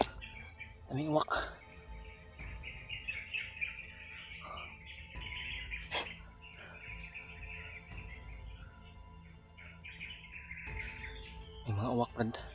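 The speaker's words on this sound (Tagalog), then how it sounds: "May mga uwak Brad." Crows call in the open around hiding people, a series of bright, fairly distant caws and chirps scattered through the clip, with bursts of nearby rustling at the start and end.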